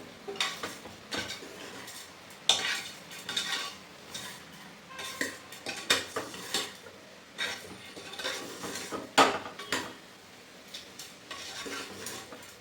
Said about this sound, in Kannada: ಈಗ ಇದನ್ನೆಲ್ಲ ಹಾಕಿದ್ಮೇಲೆ ಒಂದೊಳ್ಳೆ ಮಿಕ್ಸ್ ಮಾಡೋಣ ಚೆನ್ನಾಗಿ ನೀಟಾಗಿ